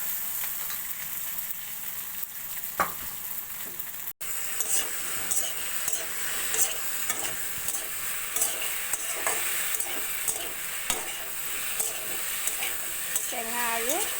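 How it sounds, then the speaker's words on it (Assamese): Elephant apple and potato pieces frying in oil left from frying fish with onion and chilli, a constant close sizzle with frequent stirring scrapes; a voice briefly surfaces near the end. "টেঙা আৰু আলুখিনি অলপ ভাজি ল'ম।"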